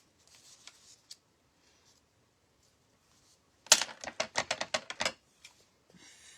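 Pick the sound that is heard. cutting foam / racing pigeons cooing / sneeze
cutting foam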